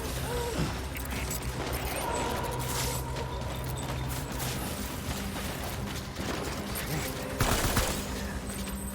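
Sustained gunfire from a firefight in Death Stranding, rapid shots and bursts layered into a dense, continuous loud battle din with a sharper blast near the end.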